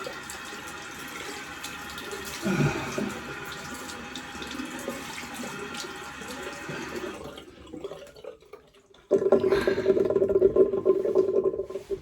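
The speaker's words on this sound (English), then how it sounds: "Let me just rinse this off with a cold" A shaving brush is rinsed under a cold running tap, with a steady splashing stream that quiets briefly and then surges louder and fuller near the end.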